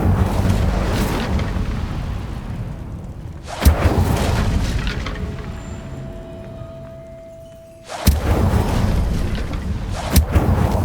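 Incendio fire spell cast in Hogwarts Legacy, heavy booming bursts that strike sharply and then roar on over a dense rumbling game background, loud and close, with no talk.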